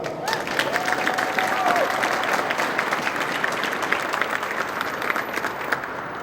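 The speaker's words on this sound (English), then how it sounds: "So please give yourself a round of applause." Audience at an Air Force basic military training coin ceremony applauding steadily for several seconds, a dense, sustained wash of clapping filling the hall with a few faint voices mixed in.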